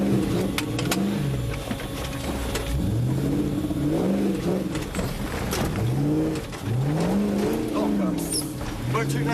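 A Range Rover on a tight off-road stage at Avon Dassett, its engine revving up and dropping back again and again as it manoeuvres, close and loud, with a voice talking over it.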